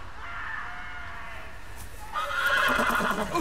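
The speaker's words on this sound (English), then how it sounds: "There goes my horse." A horse in the Telltale Game of Thrones video game neighs, a rising whinny that grows louder in the second half over steady background ambience.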